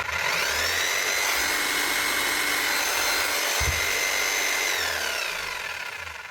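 A repaired Hilti-type demolition hammer runs steadily and loudly throughout, its motor whine and gear drone holding constant before starting to wind down near the end, with no talk over it.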